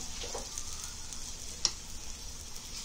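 Banana paratha frying in oil in a pan, cooking on its second side: a steady, soft sizzle runs throughout with one brief sharp crackle midway.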